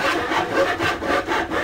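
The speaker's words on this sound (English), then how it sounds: "The hare knows about these things and is cutting up the boards for it." Rhythmic sawing through wooden boards in The Little Raven game, a steady back-and-forth rasp of about five strokes, loud and close with no talk.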